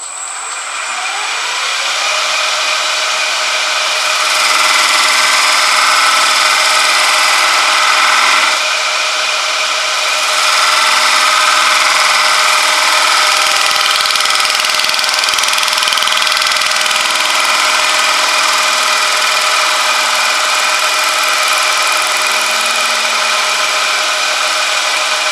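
A lathe-like machine spinning at higher speed while turning a piece of melted, camouflage-patterned plastic gives a steady loud whir with a constant tonal hum and some scraping, running unbroken and close with no talk.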